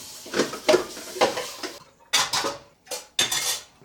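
Dishes clatter in a kitchen as a bowl is washed, with several bursts of clinking cutlery and ceramic knocking close by, separated by brief pauses.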